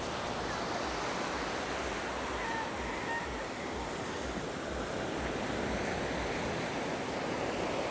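Big ocean waves at Da Nang beach in Vietnam roar and wash ashore in a constant, dense surf noise, with wind buffeting through it and no speech.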